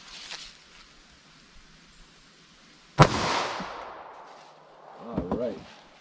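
A single sharp 9mm full metal jacket shot from a subcompact pistol cracks loudly outdoors at a test setup, its report ringing out and fading over a few seconds, with brief voices murmuring afterward.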